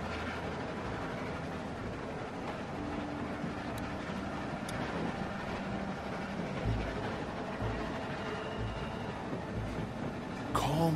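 A train rolls along rails in The Walking Dead video game, a steady low rumbling clatter that runs unbroken for several seconds, with faint metallic squeals here and there and a brief louder rattle at the end, no voices.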